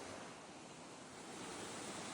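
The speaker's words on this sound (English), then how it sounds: "having that river right beside me" River flowing right beside a campsite on the Radium Lake Trail, a steady broad rushing wash, close and unbroken, with no voices.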